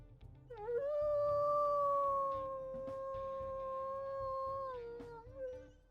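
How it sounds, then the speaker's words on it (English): A single long wolf howl from the WolfQuest video game, rising at the start, holding a steady tone and then bending down at the end, clear and fairly close over a low background bed. "We'll also listen to his howls"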